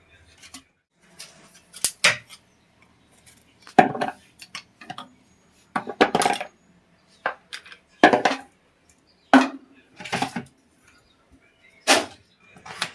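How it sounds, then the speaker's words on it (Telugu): Sharp, isolated cracks and crunches of a knife cutting hard coconut flesh into small pieces, about a dozen distinct bursts spaced irregularly over near silence, close and crisp. "కొబ్బరిని చిన్న చిన్న పీసులుగా కట్ చేసుకున్నాం."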